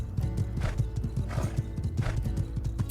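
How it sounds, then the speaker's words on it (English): A horse in the farming game My Time at Sandrock trots up with rhythmic, close clip-clop hoofbeats and lets out repeated whinnies over them, loud and clear without speech. "We are calling our horse."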